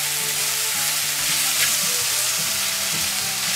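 Minced meat with gyros seasoning fries steadily in a pan, a loud, continuous sizzle that runs unbroken from start to end with no talking.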